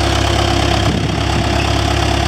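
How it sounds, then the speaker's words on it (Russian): Tractor engine idling at a house construction site gives a loud, close, steady low rumble with an even mechanical throb and no pauses. Nobody speaks over it. "Трактор приехал чуть раньше,"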